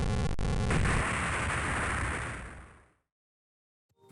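A lab explosion in the video game Megaman Battle Network roars loud and broad, then rumbles and fades away to near silence over about three seconds.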